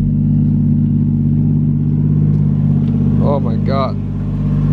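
A car called Missile Chaser idles with a steady low engine rumble on its first test drive with new wheels, loud and continuous throughout, while a voice exclaims briefly near the end.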